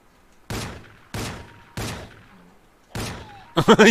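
Four separate loud gunshots from the Rogue Trooper Redux video game. Each lands with a sharp thump and a decaying tail. A final burst of louder, tonal sound follows the last shot.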